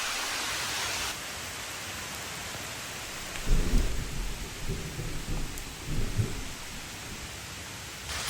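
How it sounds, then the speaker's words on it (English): Rain patters steadily while low thunder rumbles in the distance, swelling twice before fading back to the rain. "Was that thunder?"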